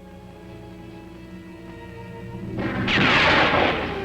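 A gunshot in a 1950s Western TV series booms in with a long echoing roar over orchestral music, swelling loud and lingering for over a second.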